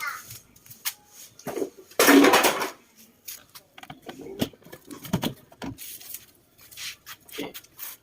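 Household refrigerator being cleaned, its door and plastic shelf boxes handled with scattered clicks, rubs and knocks, a louder scraping rustle near the start, close and irregular.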